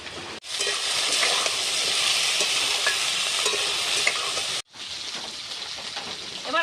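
Vegetables sizzle and crackle steadily in hot oil, loud and close. After potato and yardlong beans have fried, there is a brief pause as taro and eggplant go into the pan, then the frying resumes.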